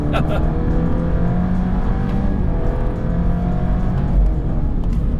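A tuned Stage 3 Alfa Romeo Giulia runs on a twisty racetrack, its exhaust giving a steady, loud, low engine drone with a slight rise near the end, while someone talks over it.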